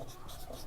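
Pen scratching on paper as a maths teacher writes out an integration problem, a brief, faint, continuous scribble with no talk over it.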